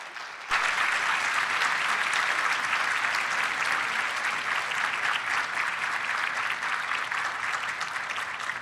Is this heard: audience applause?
yes